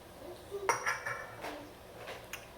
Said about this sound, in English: now I'm going to go ahead and mix everything for the sauce